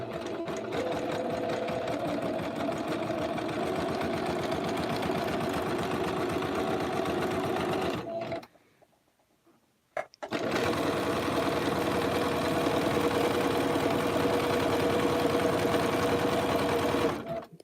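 A sewing machine runs steadily stitching a dog bed, a fast continuous mechanical whir that stops for about two seconds midway and then resumes just as loud and even, with no talking over it.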